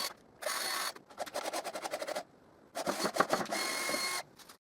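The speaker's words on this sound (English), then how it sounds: "And I do the same to screw the other triangle." Screws driven into pallet wood while assembling a wall coat hanger: two close bursts of whirring motor, each with rapid clicking ratchet stutters, separated by silence in a quiet room.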